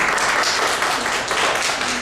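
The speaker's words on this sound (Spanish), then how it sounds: "Aplausos, por favor" A group of participants in a training session applauds, a short burst of moderately loud clapping from a small room crowd, steady for about two seconds.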